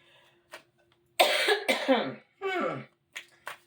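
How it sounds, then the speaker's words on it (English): Someone coughs several times in quick, harsh bursts close up, with a rough throaty rasp. Faint clicks come before and after the coughs. "We're gonna start today with some coughing."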